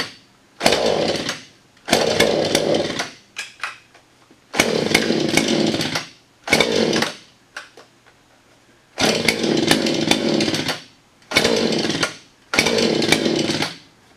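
A neglected Husqvarna 435 chainsaw engine sputters in repeated short bursts of about a second each, separated by brief silences, loud and close.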